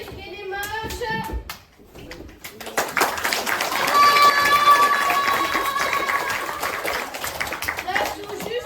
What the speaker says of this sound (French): Applaudissez bien fort le mage du cirque et les mages.